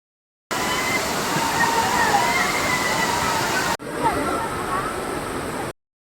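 Steady roaring rush of falling water at Savatkada waterfall, Rajapur, Konkan, loud and continuous, with a brief cut partway through before the torrent resumes.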